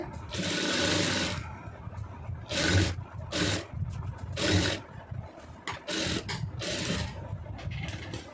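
A sewing machine runs in bursts, stitching a basting seam on a side-open top, loud whirring runs that stop and restart close by.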